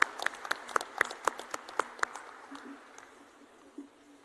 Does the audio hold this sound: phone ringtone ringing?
no